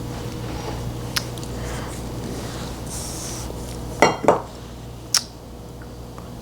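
A cleaned stand mixer attachment is fitted back onto the mixer, giving a few sharp metallic clinks and knocks against a quiet kitchen background, with no talking.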